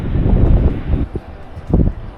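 Gusty wind on a mountain trekking trail rushes loudly and unevenly, with a steady roar that dips midway and then swells again in a second burst.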